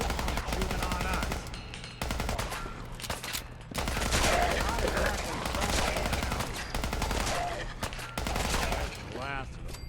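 Enemy gunfire in Fallout 4, rapid automatic bursts and single shots rattling loudly and almost without pause, broken by brief gaps, with a voice speaking under the firing.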